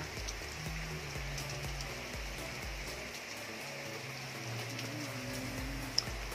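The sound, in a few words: rain falling at a beach resort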